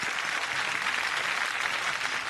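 A studio audience on a Marathi TV singing competition breaks into loud, sustained applause, a dense and even wash of clapping with no pauses.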